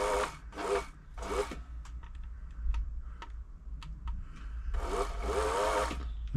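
A Singer 6104 sewing machine runs smoothly after servicing, its steady low motor hum broken by light ticking clicks and louder whirring bursts near the start and end.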